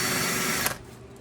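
A power driver buzzes steadily up close while backing screws out of an old 32-year-old Snapper mower motor, then cuts off abruptly, leaving a quiet room.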